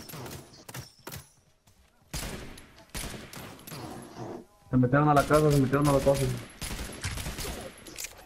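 Bursts of rapid gunfire in the video game Realm Royale rattle under excited talking, with a dense volley of shots near the end.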